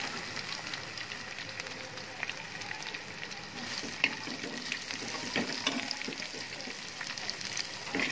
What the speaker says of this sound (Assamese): পিয়াজখিনি ভালকে ৰঙচুৱা হ'ব দিম